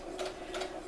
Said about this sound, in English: I'm keeping my fabric lined up with the 5/8 of an inch mark on my sewing machine plate.